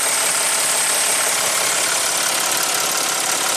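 Audi Q7 TDI diesel engine running with its turbo, a loud steady hissing whoosh with a constant high whine, heard close up and unbroken throughout.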